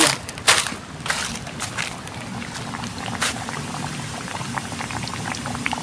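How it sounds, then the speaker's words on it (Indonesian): Grasshoppers frying in hot oil outdoors, a steady bubbling sizzle with crackling pops and a few sharp spits near the start, close-up and continuous with no talking. "Ini belalang kita goreng, kita melestarikan alam."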